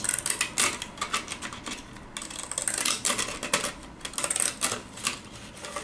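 A hand tool punches a quick run of perforations into paper for a pocket flipbook craft, giving close, crisp clicks and rapid clacks in an irregular stream.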